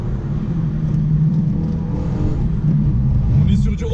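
Renault Megane 3 RS Trophy with an Akrapovic exhaust, heard as a steady, close engine rumble with a gear-change blip and crackles near the end, with voices audible over it.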